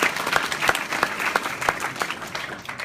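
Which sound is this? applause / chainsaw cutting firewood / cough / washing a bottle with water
applause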